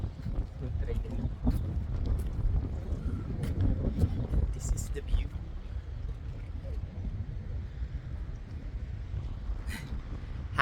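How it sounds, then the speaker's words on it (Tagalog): Wind gusts across a footbridge beside a train line near Cologne Cathedral in Germany, a steady low rumble of buffeting that carries on throughout while a person talks over it. "Ang hangin, di ba?"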